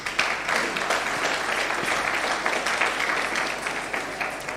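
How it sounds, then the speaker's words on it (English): An audience at a data protection certificate graduation ceremony claps steadily, a dense, continuous wash of many hands applauding throughout without pause, moderately loud and heard alone. "I think they deserve a better clap."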